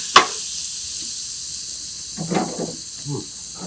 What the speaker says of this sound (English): We're going to saute those until they're tender.